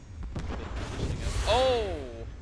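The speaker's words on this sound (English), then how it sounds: "I'll fire my missiles again" A missile launch in a space-shooter game demo comes as a rising whoosh with a bright wavering electronic whine partway through, set against low rumbling game sound and a bit of talk.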